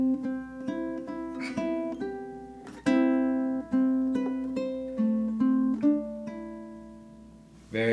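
Ukulele picking a melodic line from a song, bars 15 into 16, with clear plucked notes and sustained ringing tones, a couple of sharper struck accents midway and near the end, played alone with no talking.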